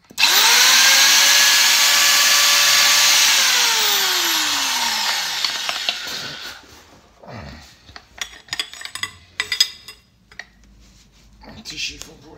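A Rothenberger Robend 4000 electric pipe bender bends copper tube with a loud motor whine that slowly falls in pitch over about six seconds, then stops, followed by clinks and handling noises.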